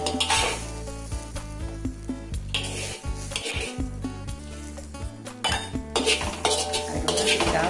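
Grated coconut and spices for coconut serunding are sautéed in a pan, heard as steady sizzling beneath frequent metallic clinks and scrapes of a utensil against the pan, fairly loud and close, with no talking.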